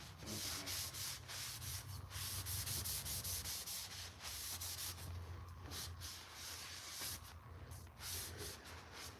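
Wood stain being rubbed by hand onto bare wood with a cloth, a steady close scrubbing friction that continues throughout, with no talking.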